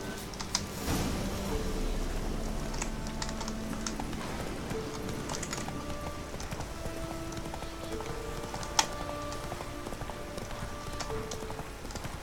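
Horse hooves clip-clop steadily at a walking pace in The Witcher 3: Wild Hunt, a continuous rhythmic clatter over a light rain-like ambience, with one sharp louder knock partway through.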